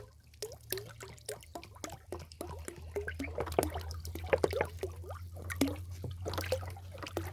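Vermicompost tea extract is stirred into about five litres of water in a bucket, giving a busy run of sloshing drips and splashes over a low steady hum.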